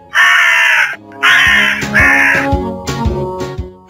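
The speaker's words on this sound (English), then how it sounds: "Crow." A crow caws in a kids' animal puzzle game, three loud, harsh, close calls in steady rhythm followed by a brief musical game jingle.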